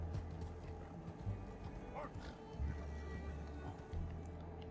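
A horse in Red Dead Redemption 2 clip-clops with a steady hoof rhythm under low background sound, with a brief whinny-like tone and voices faintly present.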